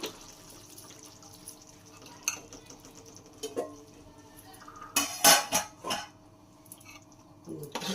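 Ivy gourd masala curry is served into a serving bowl, with spoon-on-metal clinks and scrapes scattered through the clip and a louder cluster of clatters near the middle, against quiet kitchen background.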